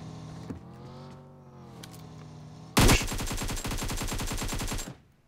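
Rapid automatic gunfire from a multiplayer shooter game, a loud dense burst of shots that starts abruptly and runs for about two seconds after a quieter stretch of engine-like rumble.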